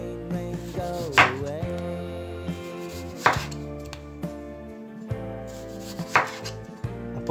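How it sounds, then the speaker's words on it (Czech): A knife slices through giant potatoes on a cutting board, cutting them thinner with three distinct, fairly loud chopping strikes spaced a couple of seconds apart over a steady background hum. "Tak já si prvně nakrájím ty obří krumple"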